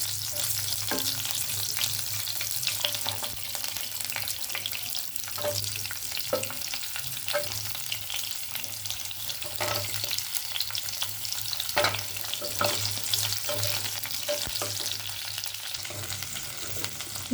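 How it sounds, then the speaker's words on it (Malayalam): Cauliflower frying in hot oil with cumin gives a dense, constant sizzle and crackle with scattered utensil taps and scrapes, steady and close throughout, with no talking. "ജീരകം നല്ല ചൂടായി കഴിയുമ്പോൾ നമുക്ക് ഇതിനകത്തിലോട്ട് നമ്മൾ എടുത്തു വെച്ചിട്ട് കോളിഫ്ലവർ ഇടാം. ഇത് നല്ലവണ്ണം വഴറ്റണം."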